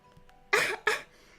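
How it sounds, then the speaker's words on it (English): Two quick, harsh coughs in close succession, close and fairly loud against a quiet background. "And I'm coughing"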